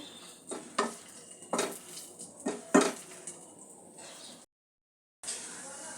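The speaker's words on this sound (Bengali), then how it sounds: "আদা কাঁচা লঙ্কাটা একটু ভেজে নেব" Chopped ginger and green chillies fry quietly in oil, with a soft sizzle broken by several spatula scrapes and metallic clinks against the pan, then a brief moment of silence near the end.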